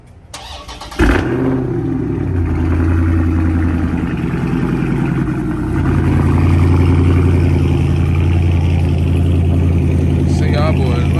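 A Dodge Scat Pack's engine fires up from cold with a sharp crank and bark, then settles into a loud, steady, rumbling idle that swells slightly in the later seconds.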